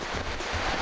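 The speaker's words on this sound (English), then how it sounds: "The wind is howling." Wind roars steadily outdoors on a fishing trip, a broad, constant rushing with low buffeting gusts against the microphone, loud and close with no other clear sounds.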